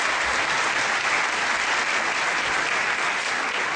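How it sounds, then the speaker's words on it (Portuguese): An audience at a continental theology congress claps in a steady, dense burst of applause that holds evenly for a few seconds, with no voices over it. "lo recibimos también con un aplauso"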